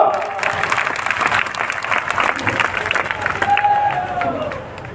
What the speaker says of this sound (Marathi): तुमच्यासाठी टाळ्या वाजवायला कंजुसी करू नका